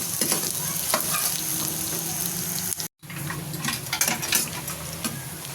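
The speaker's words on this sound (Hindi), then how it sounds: "इसको हल्का सा फ्राई कर लेंगे।" Chopped onion and garlic fry in a hot pan, a steady loud sizzle broken by stirring scrapes and a brief pause partway through, with no voices.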